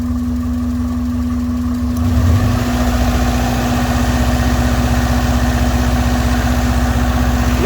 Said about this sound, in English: the motor sounds a lot better than it did before